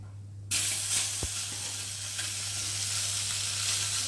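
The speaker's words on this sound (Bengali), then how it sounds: "ওই কটাও আবার তাওয়ার মধ্যে দিয়ে ভালো করে ভেজে নিই" Parshe fish frying on a tawa, a loud steady sizzle that bursts in suddenly after a quiet start and holds evenly, with a single faint knock early on.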